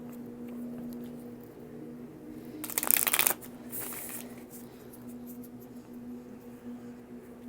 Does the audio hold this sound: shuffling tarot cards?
yes